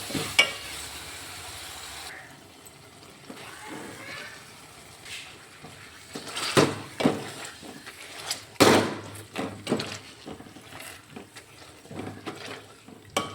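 Tomato curry is mashed in a pot with a wooden churner, bursts of scraping and squelching strokes that come in irregular, fairly close rhythm, with a few faint bumps between them.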